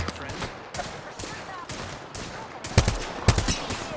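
Gunfire in Apex Legends ranked play, with bursts of rapid shots coming in separate volleys, then two sharper, louder blasts near the end amid game sounds.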